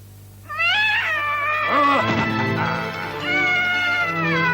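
A cat being chased gives out a long, loud, wavering meow that rises and bends in pitch, followed by a second drawn-out yowl, with no one talking.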